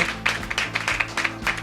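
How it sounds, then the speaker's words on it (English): An audience at a manager-of-the-year awards ceremony claps for a finalist, a brief burst of close, rhythmic applause over a low background tone. "So let's have a round of applause for Sarah."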